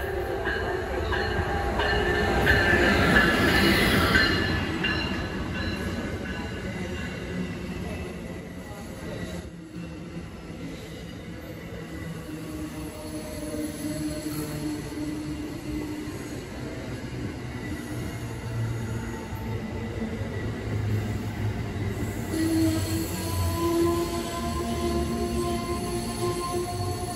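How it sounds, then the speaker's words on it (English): A train pulls into a station on a Massachusetts or Rhode Island line, rumbling loudly and steadily while its wheels squeal in long, high whines throughout. "Train approaches."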